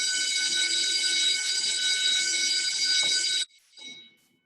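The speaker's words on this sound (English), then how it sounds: "Fire alarm going off somewhere?" A fire alarm blares a loud, continuous high electronic tone indoors for several seconds, then cuts off abruptly, leaving faint room noise and a brief soft sound afterward.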